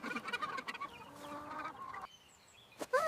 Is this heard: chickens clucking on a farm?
yes